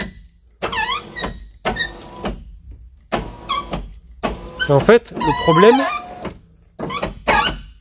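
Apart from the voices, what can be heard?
squeaking front left power window of Peugeot 207 CC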